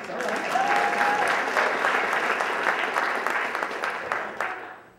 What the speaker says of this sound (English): Go ahead, you can applaud, it's all right.